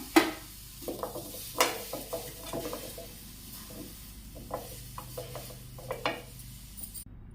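Dry ginger and whole spices, coriander seeds, peppercorns, cardamom, cloves and cinnamon, being dry-roasted and stirred in a pan, heard as soft scraping and rattling taps in irregular bursts with faint sizzle between.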